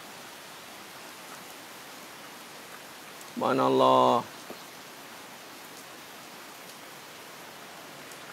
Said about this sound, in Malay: Kat Kuang pun hujan lebat sekarang ni.